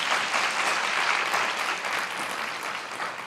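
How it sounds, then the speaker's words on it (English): Graduation audience at a charter high school ceremony breaks into steady, dense applause, many hands clapping together at an even level throughout with no voices on top. "I do think that deserves a big round of applause."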